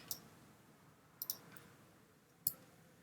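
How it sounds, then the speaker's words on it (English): Computer mouse clicks while adjusting a dial in Logic music software, a few faint sharp clicks, one single and then a quick pair and another, in a quiet room. "if I click on it and push forwards with the mouse, it turns it up"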